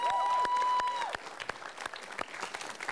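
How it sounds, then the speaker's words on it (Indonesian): A TV talk-show studio audience on Metro TV claps: a loud burst with a brief sustained tone at first, then thinning into scattered individual claps close by. "tepuk tangan paling meriah untuk kita semua"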